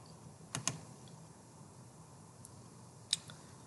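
A computer mouse gives a few faint, sharp clicks, a quick double click early, a lone click midway and another double click near the end, over quiet room hiss.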